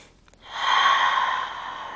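A deep, slow breath in a yoga stretch, a soft airy inhale or exhale that swells over about a second and fades gently, close and quiet with no talking.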